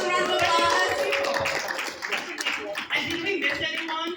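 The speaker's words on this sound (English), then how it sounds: "Let's give ourselves a round of applause." Audience at a community info session in a Richmond Hill and South Ozone Park banquet hall breaks into applause, a dense burst of many hands clapping that thins and fades over a few seconds.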